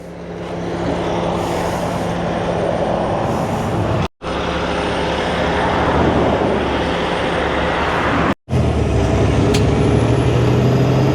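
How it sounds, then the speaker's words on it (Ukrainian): A tow truck arrives on a road near Steinbach to hitch a broken-down truck, its heavy engine droning loudly and steadily close by, broken by two brief sudden dropouts. "Їхав евакуатор, буде мене зачіпляти за хвіст."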